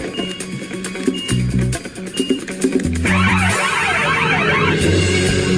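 An alarm goes off indoors with a warbling, sweeping electronic wail that begins partway through and continues loudly, following a stretch of scattered tones and clatter.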